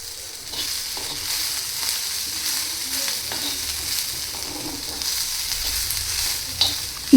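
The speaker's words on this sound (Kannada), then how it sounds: "ಈ ಥರ ಚೆನ್ನಾಗಿ ಫ್ರೈ ಮಾಡ್ಕೋಬೇಕು ಜವಳಿಕಾಯಿನ." Broad beans stir-frying in oil make a continuous moderate sizzle, with repeated soft scrapes and stirring clicks of a spatula through the pan.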